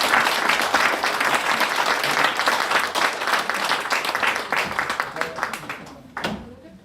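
Audience at a church-organised press conference and briefing applauds together, dense steady clapping that fades gradually over several seconds, with voices mixed in near the end.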